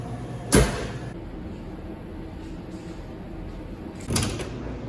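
The door of a Convotherm mini combi oven is handled with two short clunks a few seconds apart, close and moderately loud, over a steady low hum of the appliance.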